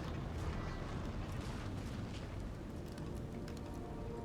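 Cannon artillery fire in the Napoleonic-era strategy game Total War: Napoleon, a steady rumbling barrage of booms with no clear separate shots, dense and continuous throughout.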